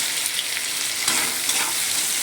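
Chopped onion with a pinch of salt frying in a pan, a steady close-up sizzle with light stirring crackle throughout and no voice.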